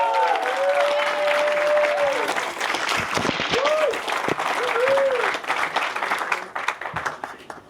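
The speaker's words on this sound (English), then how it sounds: "please, big round of applause for Lydia Grable." Loud, sustained applause fills a Boys & Girls Club capital campaign event, a thick crowd of clapping hands with a few whistles and cheers rising above it before it starts to break up toward the end.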